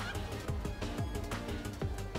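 Chicken clucks from the Minecraft: Story Mode video game, a dense run of repeated squawking calls in steady rhythm, loud and continuous over game background noise.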